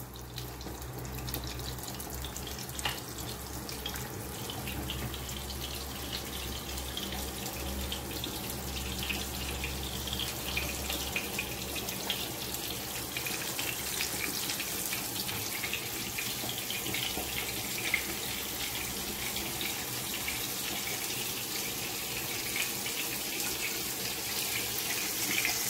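Meat cutlets dredged in flour frying in a pan, a steady close sizzle and crackle of hot fat that runs continuously without pause and no voices over it.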